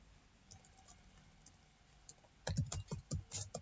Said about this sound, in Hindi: तो इसके लिए फिर टाइपिंग करते हैं